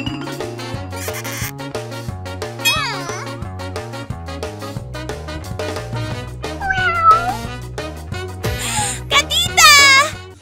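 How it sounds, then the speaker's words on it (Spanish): A cartoonish cat meows several times amid a busy Halloween children's show soundtrack, with bright, warbling meows rising over music and sound effects and a voice chiming in. "¡Gatita!"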